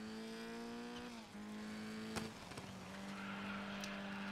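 Race car in the DiRT 5 video game skidding on ice and snow: a steady engine drone with shifting pitch, a sharp tire squeal midway and continuous sliding noise, close and loud throughout.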